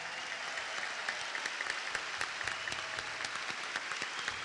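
Dense, steady applause from an audience honouring a singer, many hands clapping together at a moderate distance in an even, continuous wash with no voices standing out.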